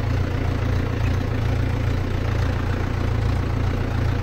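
Mahindra 475 tractor with cage wheels idling outdoors on a farm, a steady low engine rumble with an even chugging pulse, loud and continuous throughout with no talk over it.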